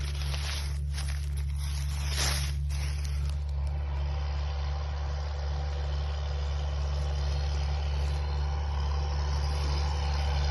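A tractor pulling a Veles-Agro tillage implement across a field at about 15–17 km/h drones with a steady, heavy low engine hum, with some rattling and rustling early on before settling into an even, continuous rumble.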